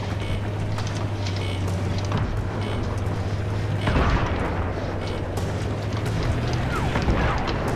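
In the Battlefield 3 video game, a tank cannon fires with a heavy boom and then an explosion bursts near, over constant engine drone and battle noise.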